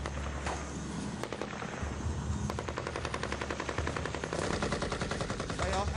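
Gunfire rings out outside a building during an Afghan evacuation, sounding as rapid bursts of distant automatic shots. A constant low engine or rotor rumble runs underneath.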